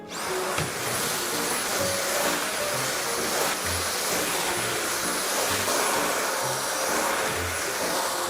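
A vacuum cleaner runs steadily across a home floor, cleaning up after a large fish was butchered, giving a loud continuous whoosh with a high whine and no talking.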